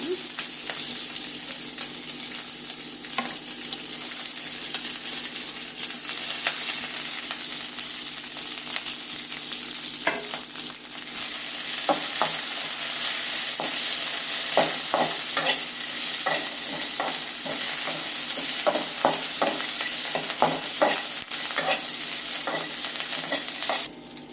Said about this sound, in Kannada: ಮತ್ತು ಶಾಯಿ ಜೀರಾ, ಮೆಣಸು, ಸೋಂಪು, ಹಸಿಮೆಣಸಿನ್ಕಾಯಿ ಮತ್ತು ಶುಂಠಿ ಬೆಳ್ಳುಳ್ಳಿ ಎಲ್ಲ ಪದಾರ್ಥನೂ ಹಾಕಿ ಹುರ್ಕೊಳ್ಳೋಣ.